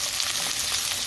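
Onions fry in hot oil for a restaurant-style black pepper chicken karahi, giving a steady, close, dense sizzle with fine crackle throughout and no voices.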